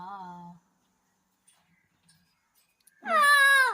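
A short voice speaks, then after a quiet pause a black-capped lory parrot gives one loud, nasal, drawn-out call that imitates a cat's meow.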